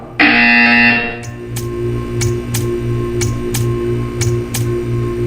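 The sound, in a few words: buzzer in the Portal 2 video game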